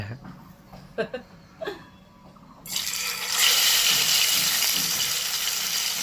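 Green pomfret fish are slipped into hot mustard oil. A few soft clinks give way to a sudden loud, sustained sizzling hiss that keeps going to the end.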